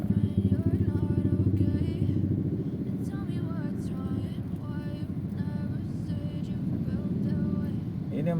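Motorcycle and car engines idle and rev in a dense traffic jam on a street where school drop-offs block the roadside, a steady rumbling bed of traffic noise up close with no clear speech.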